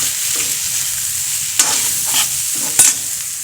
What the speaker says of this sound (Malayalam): സോയാബീൻ നന്നായിട്ട് ഫ്രൈ ആയി കേട്ടോ.